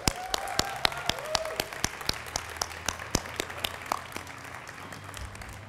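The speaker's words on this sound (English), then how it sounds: "I think they deserve another round of applause." Audience applause at a Salt Lake City World AIDS Day event, a steady round of clapping with sharp individual claps standing out, moderately loud and sustained, with no talking.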